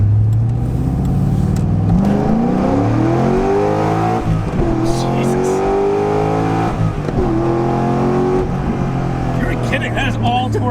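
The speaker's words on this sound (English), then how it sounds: "at the rate this car accelerates, it is mind-bending how fast the Speedo moves around" A 2009 Corvette C6 Z06 accelerating hard, its engine revving up through rising pitch sweeps with gear shifts between pulls, loud and close from inside the car.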